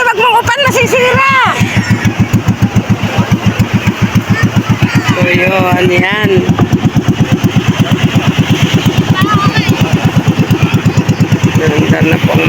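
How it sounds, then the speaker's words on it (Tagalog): A small boat's engine starts up and settles into a loud, steady rhythmic chugging at close range, with people talking over it. "Nandar na po ang makina."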